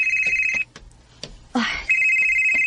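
A telephone rings for an incoming call, a bright electronic tone sounding in two bursts with a short break of softer rustling between them, close and loud with no talk over it.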